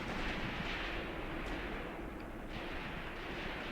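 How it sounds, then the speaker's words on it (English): Long-range machine-gun and artillery fire rage in the WWII tactical video game Graviteam Tactics, set at Kharkov in 1942: a dense, continuous roar of distant gunfire and blasts with no clear gaps. "Taking more long-range MG fire over there."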